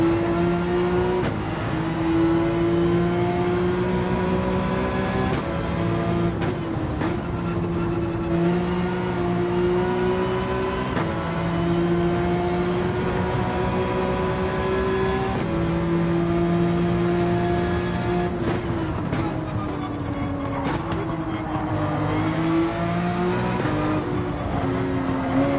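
Race car engines rev and drone steadily in a Gran Turismo 7 race with a Porsche 911 among the field, the pitch rising and falling through gear changes for over twenty seconds, loud and close with no talk.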